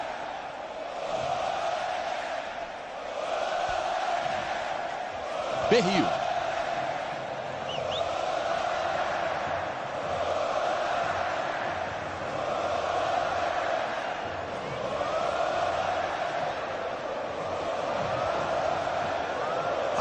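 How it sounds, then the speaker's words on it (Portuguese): Flamengo supporters fill the Maracanã with a steady, roaring crowd noise during a home match against Palmeiras, swelling in waves under continuous commentator talk. "a torcida do Flamengo faz uma festa incrível"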